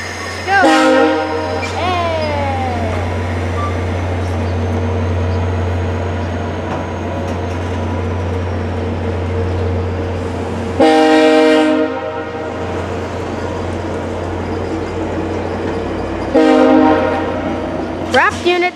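VIA Rail unit 6454, a Canada 150 wrapped locomotive, departs Stratford station with a steady, loud diesel rumble close by. Its horn blasts several times, with one early, one midway and one near the end.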